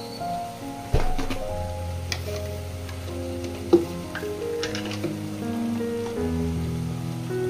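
Spices frying in a small amount of oil in a pan, a light crackling sizzle with a few sharp ticks, steady and close, with no voices.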